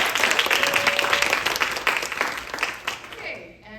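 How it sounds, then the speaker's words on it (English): An audience at a Moth storytelling event applauds warmly, a dense close burst of clapping that tapers off toward the end, with voices mixed in. "Big applause and everything"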